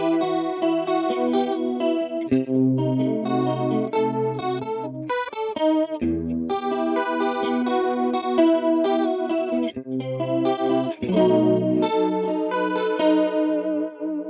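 An instrument played through a MonoNeon signature Whammy pedal with its chorus effect engaged produces clean, sustained melodic notes and short phrases with a shimmering doubled tone, steady and prominent throughout with no talking.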